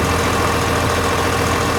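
A 1969 International Custom 756 tractor engine idles in a steady, loud, close drone with no break or change in pace.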